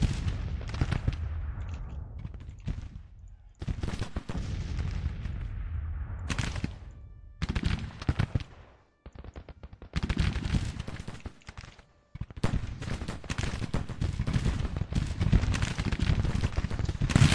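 Musket fire from massed soldiers in the battle game Grand Tactician, dense crackling volleys and rolling booms continuing for long stretches, broken by a few short quiet gaps before the firing resumes.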